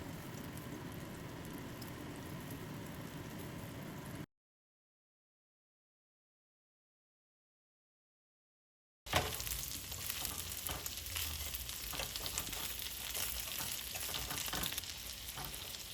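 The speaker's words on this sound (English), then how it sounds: "Place the kebab one by one. Fry 8 to 10 minutes on medium-low heat." Gola kebabs frying in a little oil on medium-low heat, a continuous sizzle and crackle broken by a stretch of silence before the frying resumes louder.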